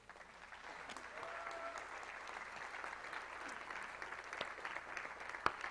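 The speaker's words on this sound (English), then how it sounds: "Can we give these ladies just a big hand today?" An audience applauds a group of ladies at a church-style gathering, a steady wash of many hands clapping at moderate distance, faint and continuous throughout with a sharper clap near the end.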